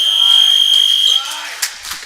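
A game-ending buzzer in a youth basketball league game, one long steady electronic tone lasting about a second before cutting off into crowd noise and scattered squeaks.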